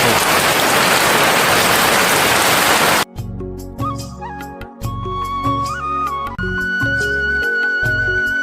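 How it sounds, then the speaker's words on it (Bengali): Heavy rain pours down in a dense, loud, steady hiss for about three seconds, then cuts off abruptly as music takes over. "আর দেখো কি বৃষ্টি পড়তে আসছে।"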